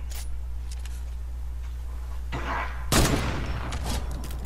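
A single sharp sniper shot from a video game cracks out loudly partway through, standing above a steady low hum and a few lighter clicks.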